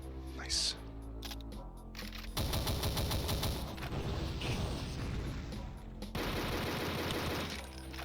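Rapid pistol shots fired in the video game Paar, a dense run of sharp cracks that starts partway in and continues steadily beside game music and noise.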